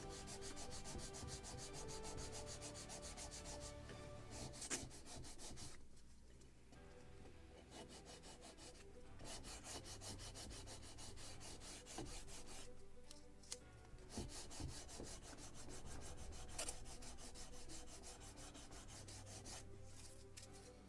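Sandpaper rubs on wood parts of a Model Shipways kit of the 1776 gunboat Philadelphia in close, continuous back-and-forth scratching strokes, briefly pausing twice before resuming at a steady rhythm.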